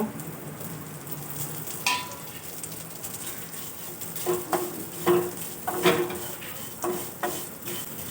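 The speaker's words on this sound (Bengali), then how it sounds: "ঘিটা গলে গেছে এবার সেমাই দিয়ে সেমাইটা ভালো করে ভেজে নেব" Vermicelli fries in melted ghee in a pan, a soft, steady sizzle broken by repeated scraping and stirring clinks of a utensil against the pan, close and without voices.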